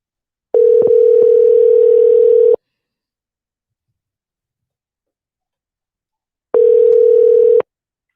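A telephone line tone sounds while a call is being placed, heard as two loud, steady bursts about two seconds and one second long, with faint clicks and silence between them.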